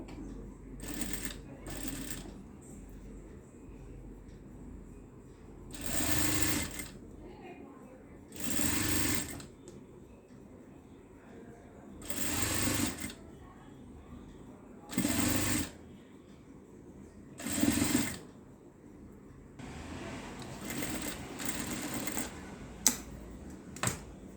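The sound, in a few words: sewing machine stitching a child's garment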